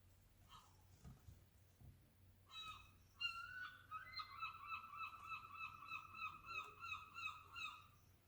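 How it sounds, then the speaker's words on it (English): Loud harsh bird calls repeating in a rapid series, honking, squawking cries that continue steadily for several seconds. "That was a very loud seagull."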